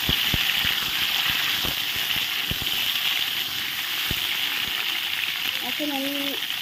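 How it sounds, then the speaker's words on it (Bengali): Pointed gourd and potato pieces fry together in a pan, giving a constant bubbling sizzle with a few soft knocks, and a brief tone near the end. "আলু অল্প কটার তো একসঙ্গেই দিয়ে দেবো, একসঙ্গেই ভেজে নেব।"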